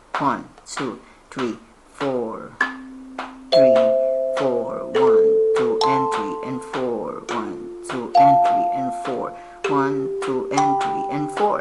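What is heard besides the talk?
kalimba rhythm drill being played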